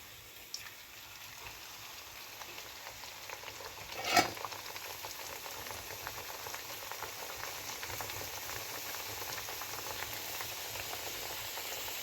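Beetroot puri frying in hot oil, a soft continuous bubbling sizzle heard close but quiet, with one brief louder splash or clatter partway through and no voices.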